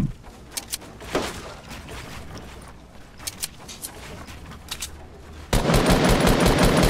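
Shooter video game gunfire: scattered sharp shots over a steady background hum, then a loud, dense burst of rapid firing near the end.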